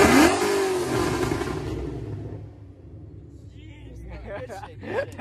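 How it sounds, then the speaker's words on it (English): A stock widebody Dodge Charger with the 392 engine and no headers revs hard and loud up close at first, then the roar fades away as the car pulls off, with people chattering in the background. "This is the loudest car with no headers. I guarantee it."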